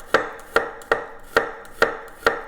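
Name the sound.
knife slicing garlic cloves into thin slivers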